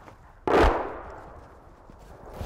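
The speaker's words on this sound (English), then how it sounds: "We've just heard an explosion nearby," A single loud blast bursts out close by, near a frontline position in Ukraine about a mile and a half from Russian lines, then fades into a long rumbling decay.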